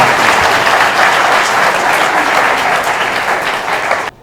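A church congregation at a first Sunday of Advent service bursts into loud, dense applause that holds steady for about four seconds, then stops abruptly.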